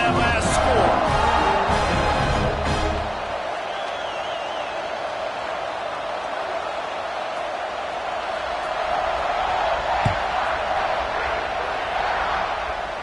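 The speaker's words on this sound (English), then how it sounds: "this crowd is buzzing after that last score" A college football stadium crowd buzzes after a score, a steady broad roar filling the space with a single thud, while an announcer talks over it.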